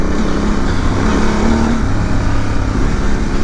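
A Honda Transalp 750 motorcycle engine runs hard on a test ride, a loud, steady roaring drone with wind rush, continuous and close, with no pauses or talk.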